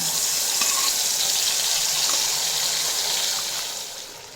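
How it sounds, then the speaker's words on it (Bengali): Water rinsing out a mixing jar while cooking potol chingri, a steady close rushing and gushing stream that runs evenly for several seconds and then tapers slightly, with no talking. "মিক্সিং জারটা ধুয়ে সামান্য জল এড করে দেব"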